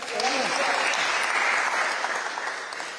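Loud sustained applause from an audience at a televised election panel discussion, a dense close clatter of clapping hands lasting throughout and easing slightly near the end, with a voice briefly heard at the start.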